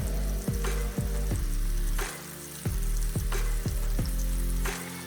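One-inch chicken pieces fry in hot oil in an iron skillet, giving a loud, continuous sizzle broken by a series of sharp knocks and taps as the pieces are moved about.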